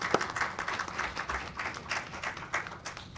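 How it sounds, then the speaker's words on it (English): An audience claps in a steady round of applause after a panel discussion at a research and grants expo. The dense clapping holds steady for the whole span, with no one talking. "A round of applause for what was a fascinating conversation this morning."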